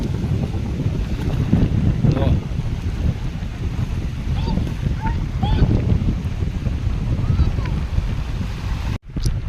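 Strong sea wind buffeting the microphone in a constant roar, with faint bird cries and a brief drop near the end.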